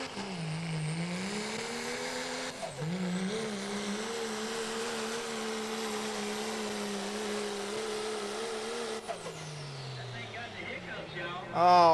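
A 2012 Dodge diesel truck at a truck pull in Fishersville, Virginia gives a loud, sustained engine roar. Its pitch dips and rises, holds steady for most of the run, then changes near the end.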